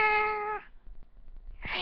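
A kitten meows loudly and close by, with one drawn-out meow at the start and a second one beginning at the end, separated by a brief quiet gap.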